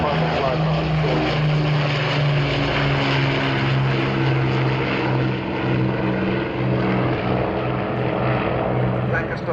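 The Avro Lancaster PA474 bomber makes an airshow flypast, its four piston engines giving a steady, loud, droning propeller roar throughout, with layered low engine tones.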